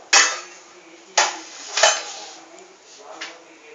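Pakoda batter being mixed in a bowl, with a few loud scraping swishes and clanks of a utensil against the bowl at irregular intervals, close and without talk.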